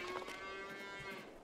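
Cattle in a farming video game with a cow barn let out a single loud, sustained moo, close and clear with no talk over it.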